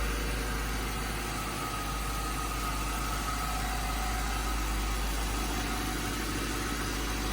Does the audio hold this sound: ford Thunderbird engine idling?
yes